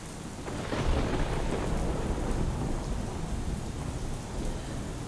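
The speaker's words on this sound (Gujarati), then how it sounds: "તો તાલુકામાં સતત બીજા દિવસે વરસાદ વરસ્યો" Heavy monsoon rain pours steadily in Gujarat while deep thunder rumbles through it, one strong roll swelling near the start, the downpour continuous and loud throughout.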